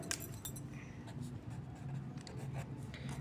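Marker or chalk scratches across a board in short strokes during a Class 10 math lesson, faint tapping and squeaking strokes heard under a man's spoken explanation.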